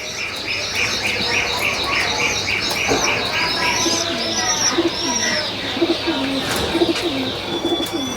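Pigeons from an old bloodline of high-flying birds coo repeatedly in a loft, overlapping with continuous chirps and tweets from several birds, steady and fairly close throughout.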